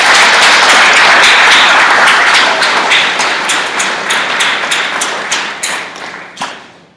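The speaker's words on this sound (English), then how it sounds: "So a big round of applause for all of our staff." Applause at a 2013 school graduation ceremony honouring the staff: dense, loud clapping from the audience that starts full and slowly thins and fades over several seconds, with a few sharp individual claps standing out near the end.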